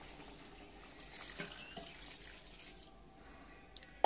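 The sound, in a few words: water poured into pot of chicken and potato curry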